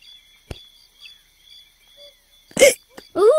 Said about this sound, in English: you've got hiccups